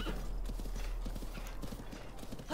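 Horse hooves clip-clopping in a steady rapid rhythm while riding in The Legend of Zelda: Breath of the Wild, close and continuous over a low background hum.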